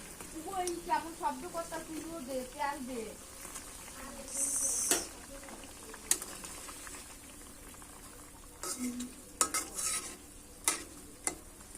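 Fish pieces simmer in a bubbling curry broth in a pot, giving soft gurgling, occasional spoon clinks and stirring, while a voice talks briefly near the start.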